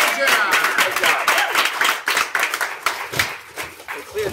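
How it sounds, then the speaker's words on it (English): A comedy improv audience claps for volunteers leaving the stage, a lively burst of uneven, rhythmic hand claps with cheering voices that gradually thins out. "Big round of applause for our awesome volunteers."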